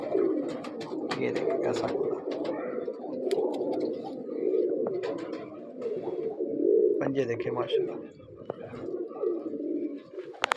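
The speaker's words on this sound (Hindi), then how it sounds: "बहुत ही कमाल किस्म का कबूतर है, देखें माशाल्लाह बहुत ही आला नस्ली कबूतर है।" Teddy breeder pigeons, an old-line crested fancy breed in Lahore, coo in a steady low rolling murmur close by, with someone talking over the birds throughout.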